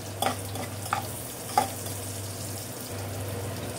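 Onion and garlic fry in a home kitchen pan with a steady soft sizzle, a low hum beneath and a few sharp stirring clinks, no voices.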